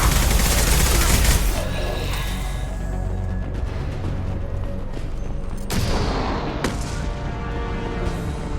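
Heavy gunfire in Mass Effect 2 erupts as a loud dense burst at the start, then dies back to a rumbling lull before a few more sharp shots crack out.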